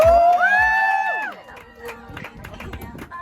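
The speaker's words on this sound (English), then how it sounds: "whenever anyone goes by on a boat, they cheer quite heavily for them." Crowd of people at a waterside jumping spot in Israel cheering and shouting as a boat passes, a loud burst of whoops at the start that settles into general babble and splashy background noise.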